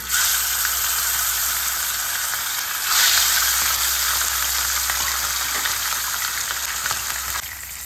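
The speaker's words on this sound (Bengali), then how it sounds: "মাছগুলোকে সর্ষের তেলে ভেজে নিচ্ছি।" Small carp fish sizzle steadily in hot mustard oil, a dense, continuous hiss up close with a brief louder surge partway through.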